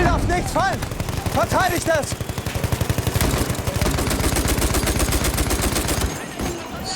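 Rapid bursts of machine gun fire in the World War I shooter Battlefield 1, a fast, even stream of shots rattling close and loud with brief gaps, backed by game noise and a short pause near the end.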